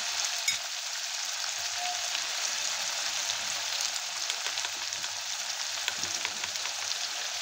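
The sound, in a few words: frying in oil until the oil separates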